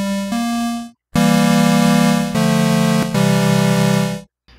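Organ-like chords from a Game Boy Advance software synthesizer, its 32-bit microcontroller voicing up to eight notes at once in a square wave: four sustained, loud, buzzy chords with brief gaps, no talk.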